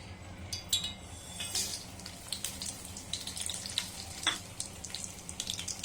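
Urad dal, mustard seeds and cumin sizzling in oil with turmeric and red chilli for bottle gourd chutney, a faint steady frying hiss under soft clinks of a utensil against the pan.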